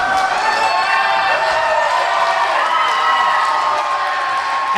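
Crowd at a wrestling event cheering and shouting, a dense sustained roar of many voices with whoops, loud and continuous throughout.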